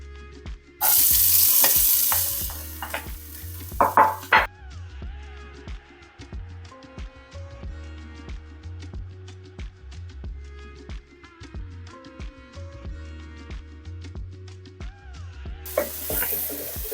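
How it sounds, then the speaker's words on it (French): Onions sauté in a drizzle of oil in a pan while cooking a sweet-potato shepherd's pie, a loud sizzle bursting as they hit the pan, then softer frying with clinks of stirring and a second sizzle at the end. "un filet d'huile pour faire sauter les oignons"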